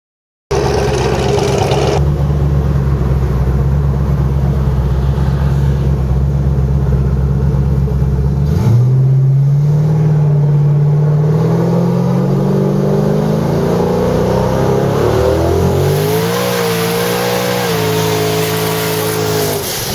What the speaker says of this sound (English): it just will not stop burning the tires, dude.